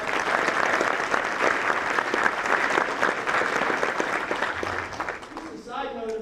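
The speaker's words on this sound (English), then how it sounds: "Can you give them a round of applause?" At the Beames Fieldhouse ribbon cutting, a crowd gives city council members a round of applause, steady close clapping filling several seconds before tapering off as a voice begins to speak.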